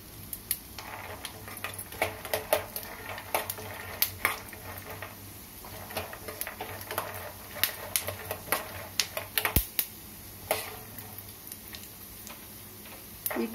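Groundnuts dry-roasting lightly in a pan for chutney give off an irregular run of small ticking rattles and scrapes as they are stirred, close and fairly quiet, with no talking.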